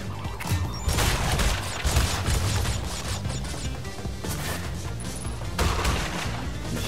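Dense, continuous bursts of gunfire and crashing impacts from Crash Bandicoot N. Sane Trilogy's Crash 3, loud and close, with barely any pause across the stretch.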